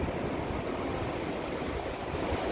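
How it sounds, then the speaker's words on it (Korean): Ocean surf rolls onto the beach at Yeongildae Beach, a steady, dense wash of breaking waves heard close and fairly loud throughout, with no voices over it. "저기 파도 어때? 엄청 엄청 엄청 높아?"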